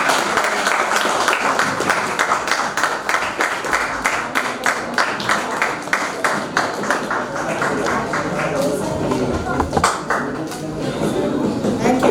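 A conference audience applauds at the opening of an academic event on technology, innovation and society, a dense, steady wash of many hands clapping for about twelve seconds, fairly close and continuous with slight swells.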